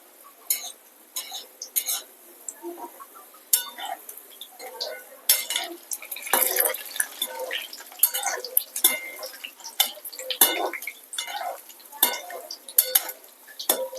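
Pakoras being turned over in a pan of hot oil on low heat, with scattered clinks and scraping of a utensil against the pan over soft sizzling, close by and fairly quiet, with no one talking.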